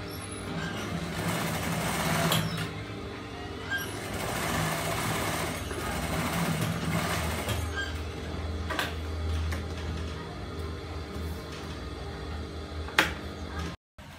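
A sewing machine stitching a transparent face mask runs in steady whirring bursts with faint mechanical ticking, fairly close, with a pause near the end.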